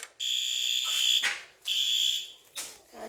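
A fire alarm sounds after a pull station is pulled, giving loud, shrill electronic tones in repeated bursts with short gaps between them.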